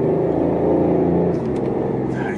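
Loud, smooth engine intake roar from a 2014 BMW i8 held steady, a throaty sports-car drone close by, with a few faint clicks toward the end.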